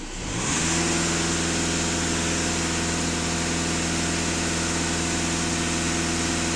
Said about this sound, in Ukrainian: Даю 2500 обертів, хоч якесь навантаження на двигун.